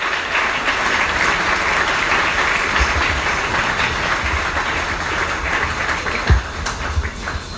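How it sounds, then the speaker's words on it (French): Church congregation at a Sunday service applauding and cheering loudly in acclaim, a dense, steady wash of clapping and crowd noise that runs throughout. "nous allons l'accueillir en acclamant très fort le Seigneur"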